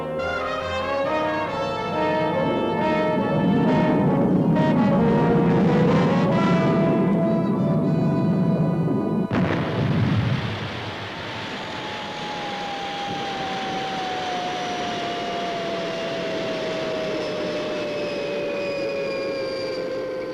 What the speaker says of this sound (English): Retros fired. Approaching landing pad.